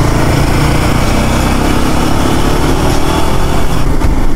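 A Royal Enfield Himalayan 450 motorcycle engine drones steadily and loudly on a test ride, a continuous buzzing hum with wind rush and no pauses.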